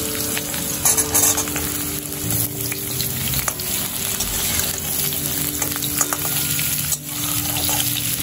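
Potato pieces and drumstick (moringa) pods frying together in a pan over medium heat, a loud, steady, close crackling sizzle with intermittent stirring scrapes.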